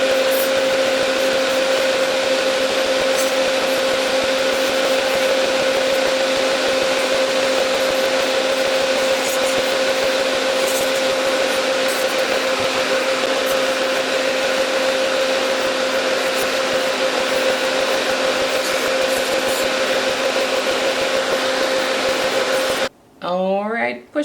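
A steady high-pitched electric whine of a nail file drill with a fine sanding band runs continuously with faint grinding on nails, ending with a brief voice.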